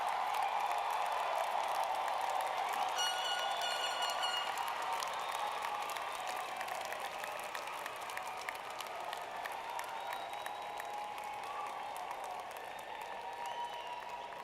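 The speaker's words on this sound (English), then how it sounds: "I want you to get up and turn around and applaud your family and friends" Graduates at a university arts and sciences commencement ceremony applaud their families and friends, a loud sustained wave of clapping and crowd noise that holds for the whole stretch and eases slightly toward the end.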